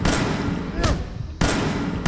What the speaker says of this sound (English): I hate this slow shooting pistol.